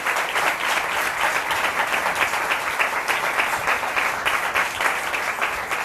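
Loud, sustained applause from a church congregation after a pastor calls for a strong round of clapping, dense and steady throughout.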